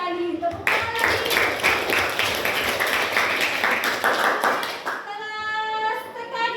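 A kindergarten class bursts into steady, rhythmic clapping that lasts several seconds before fading, with children's voices rising at the end.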